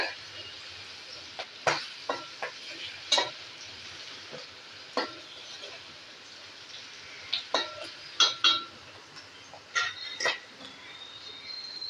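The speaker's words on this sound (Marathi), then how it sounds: "ही फोडणी आहे, ही चांगली झाली तर तुमची भाजी एकदम चांगली होणार" Tempering for Maharashtrian taro leaf curry crackling in a pan, a soft background sizzle broken by scattered sharp pops and spoon clinks.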